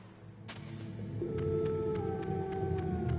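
Wolves howl in Metal Gear Solid, a rising, sustained tonal howl over a low ambient rumble, preceded by a sharp hit and accompanied by faint rhythmic clicks.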